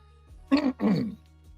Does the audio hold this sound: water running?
no